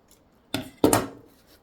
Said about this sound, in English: I might have to cut off a bit of your excess.